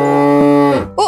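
A cow lets out a single loud, close moo, a long sustained harmonic low call that drops in pitch near the end before a short breathy tail, with no talking.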